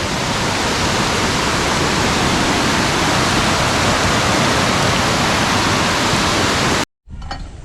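Heavy rain pours outside a bungalow as a dense, loud, even roar that goes on without a break, cuts out abruptly near the end and then briefly returns more softly.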